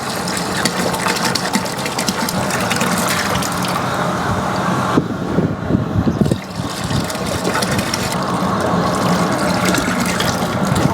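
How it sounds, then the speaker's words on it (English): Water pours steadily into a crawfish boiling pot, a continuous gushing fill with an engine-like hum under it, briefly dipping midway before resuming. "we're going to add 2 more containers of water"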